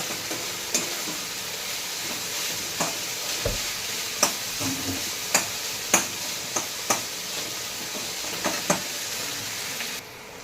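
Sliced bitter gourd (karela) stir-fried in a pan gives a continuous soft sizzle, broken by a dozen or so sharp clinks and scrapes of a spatula at an irregular pace, close up and with no talk.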